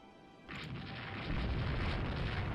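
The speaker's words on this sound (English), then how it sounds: "merchant hit by a torpedo" Torpedo striking a merchant ship in Rule the Waves 2, a muffled boom that swells into a sustained low rumbling roar, fairly faint and distant.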